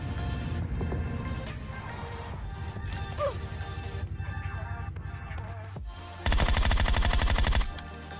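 Gunfire in PUBG during a solo-versus-squad match: background music with scattered clicks gives way to a loud, dense burst of rapid automatic shots lasting over a second, with no talk.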